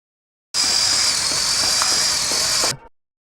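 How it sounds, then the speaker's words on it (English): A high-pitched whirring dentist's drill sound runs steadily for about two seconds as a dress opens out like an umbrella, then stops abruptly, leaving silence. "This dress opens out like an umbrella, with the sound of a dentist's drill"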